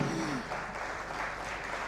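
Audience at a high-level political event on ending tuberculosis applauds, a short, steady wash of clapping filling the hall at moderate distance.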